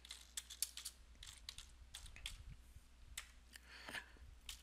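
Typing on a computer keyboard while setting up a cluster network in a failover clustering lab: quiet, irregular clusters of sharp key clicks, close-miked and alone, with brief pauses between bursts.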